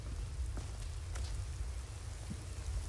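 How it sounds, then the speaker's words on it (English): Rain falls steadily in Skyrim, a constant soft hiss of drops on the ground with a low rumble underneath, even and unbroken for the whole moment. "Oh, now it's raining, just what I need."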